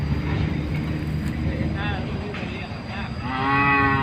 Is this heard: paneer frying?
no